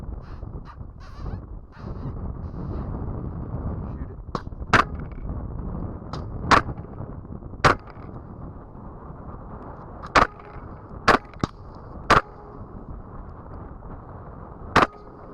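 Gunshots are fired at a running coyote outdoors: about ten sharp, sudden reports spread irregularly across the stretch, some in quick pairs, over a steady background hiss.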